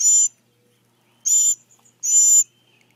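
A baby bird being hand-fed gives three short, high, hissing screech calls in a steady rhythm, close and loud, with silence between them.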